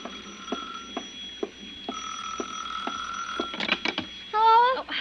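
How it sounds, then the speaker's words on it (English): A telephone rings as a sound effect in an old radio drama, repeated bell-like trills under a ticking clock, followed by a brief clatter and a voice starting to speak. "It was 5 minutes to 6 when the phone rang again."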